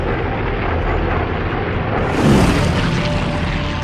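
A steady, dense roar of many WWII propeller warplanes from a strike force of more than 200 aircraft, a continuous drone that swells slightly midway.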